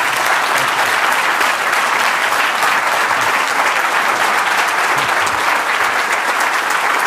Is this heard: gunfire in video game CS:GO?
no